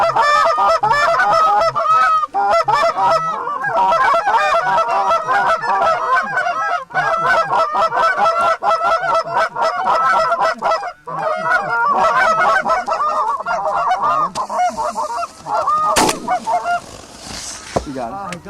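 A flock of geese honks continuously during a goose hunt, a dense, loud chorus of overlapping nasal calls, with a sharp bang near the end.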